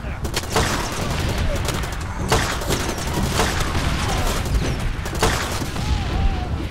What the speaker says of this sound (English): I even start preemptively shooting at the enemies where I remember them to be